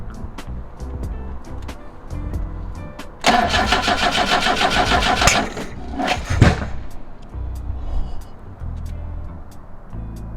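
A BMW 2002 carbureted engine cranks in a rapid rhythmic churn for a couple of seconds, then coughs and sputters briefly before settling into a low rumbling idle.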